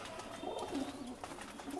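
Lalsara and Kalduma pigeons coo softly in a loft, a low murmuring coo rising and falling over about two seconds amid faint background noise.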